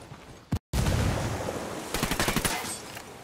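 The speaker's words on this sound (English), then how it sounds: "Opening fire." Gunfire crackles in Ghost Recon Wildlands after a brief dropout, building into a rapid string of loud, close automatic bursts near the end.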